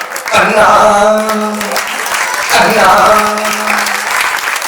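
An audience applauds at a Hindi comic poetry recital by a poet, loud clapping rolling on in two waves while a raised voice speaks or calls out over it.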